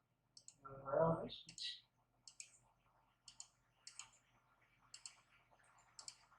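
Repeated crisp computer mouse clicks while working in STAAD.Pro structural design software, coming in quick pairs at a steady pace, close and fairly quiet, after a short burst of voice near the start.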